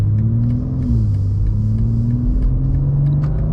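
A 2024 BMW M2 on stock tires accelerates hard, its engine note droning loud and steady with rising harmonics and a constant rumble throughout, no talk over it.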